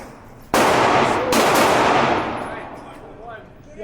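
Gunfire at an indoor gun range: two loud, sharp reports close together, each followed by a long ringing echo that slowly fades.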